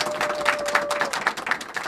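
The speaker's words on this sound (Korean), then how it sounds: "한 마음으로 박수로, 큰 박수로 축하해 주시기를 바랍니다" An audience at a church graduation and certificate ceremony applauds, brisk irregular clapping at moderate level with a faint steady tone beneath it during the first second.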